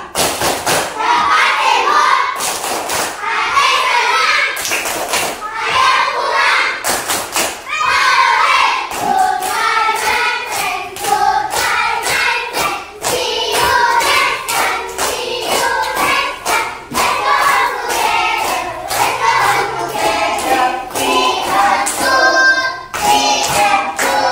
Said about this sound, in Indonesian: Tepuk pulang.